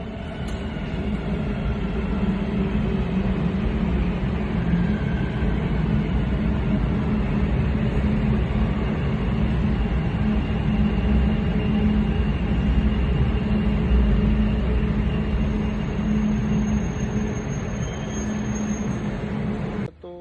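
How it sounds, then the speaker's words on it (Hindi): Steady, loud rumble and hum of a driverless Dubai Metro train at the Terminal 3 station, continuous for the whole stretch with rolling wheel noise and faint high electric whine, no talk. "ये वर्ल्ड की उन ट्रेनों में से एक है जिसमें ट्रेन विदाउट ड्राइवर होती है"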